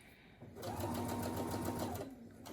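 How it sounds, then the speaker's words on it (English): A Brother SE1900 sewing machine runs a short burst of stitching and backstitches on its own. Its rapid, even whirring hum starts and stops within about two seconds, and a faint voice sounds behind it. "See, it backstitched on its own."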